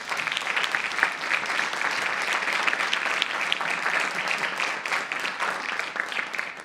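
An audience applauds a film director of a documentary at a history film forum, steady dense clapping filling the room for several seconds without a break.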